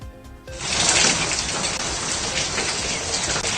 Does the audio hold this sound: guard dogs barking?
no